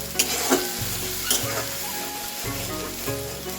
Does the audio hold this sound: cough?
no